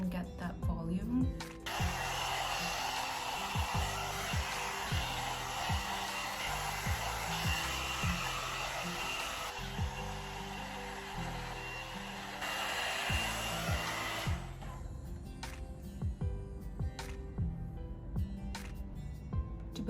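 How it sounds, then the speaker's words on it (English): A hair dryer blows hair for a blowout, a loud steady whooshing roar that runs for about thirteen seconds and then cuts off, with someone talking underneath and afterward. "I'm gonna start blow drying upwards and away from my face so I can get that volume."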